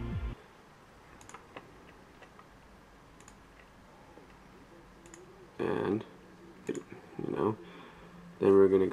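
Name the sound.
mouse clicking on a computer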